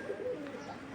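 Giribaz pigeon giving a brief, soft low coo, close by but quiet, heard alone without talking.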